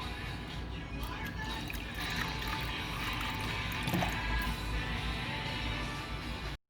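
Water poured into a reptile's dish, a steady faint trickle and splash lasting several seconds, close by with low background hiss.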